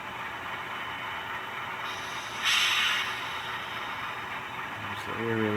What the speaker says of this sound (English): There's the air release you heard there.